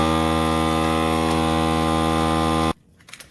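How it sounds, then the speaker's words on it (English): A vacuum sealer runs on a bag of cured moose meat, a loud steady motor hum with a harmonic drone that cuts off abruptly near the end, leaving faint quiet noise. "time to vacuum seal"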